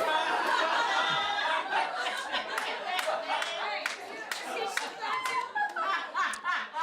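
Audience at a comedy show clapping, a dense burst of applause mixed with chuckles and laughter, loud and close at first and then thinning out while a voice talks over it.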